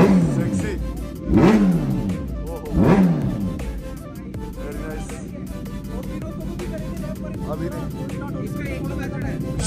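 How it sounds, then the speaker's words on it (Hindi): Superbike cold-starting on a chilly, snowy day, with its exhaust damaged after a crash: two sharp loud revs rise and fall early, then the engine settles into a steady idle. "बहुत ही धीमे तरीके से कोल्ड स्टार्ट हो रही है यार"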